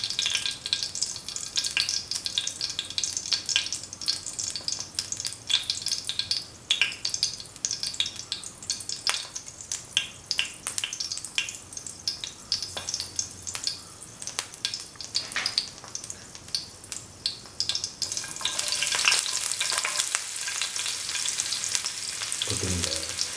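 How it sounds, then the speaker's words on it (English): Shallots sizzle and crackle in hot oil with popped fenugreek seeds, a steady close frying hiss broken by sharp pops and stirring scrapes, growing brighter near the end. "Put in the shallot, after the seeds the fenugreek have popped."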